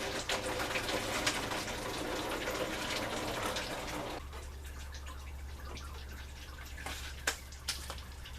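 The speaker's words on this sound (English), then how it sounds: "once you get it to start draining, then if you take off the radiator cap, that'll help it drain even better" Coolant drains from a Ford Ranger 2.3L radiator with the cap removed, a close, splashing liquid stream that shifts to a lower, steadier flow partway through, followed by a few faint drips and taps.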